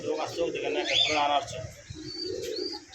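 Cooing of two original racing pigeons of the Johnson bloodline, a soft low murmur heard close by under steady conversation between two men at a pigeon sale.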